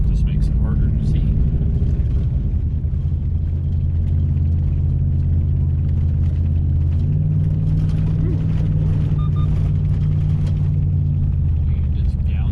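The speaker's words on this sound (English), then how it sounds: "You just downshifted and took off, didn't you?" A car on a rural road in a Missouri conservation area in cold weather, downshifting and accelerating uphill, produces a loud, steady low engine drone that swells slightly partway through, heard close from inside the vehicle.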